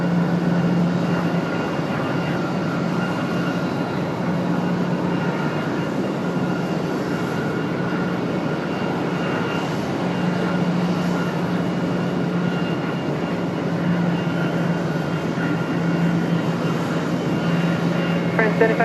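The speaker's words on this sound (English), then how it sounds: "So we've got Delta 1097 making their way in" Delta airliner arriving at Raleigh Durham International Airport, a steady, broad jet roar that holds at an even level for the whole stretch, with a constant low drone underneath.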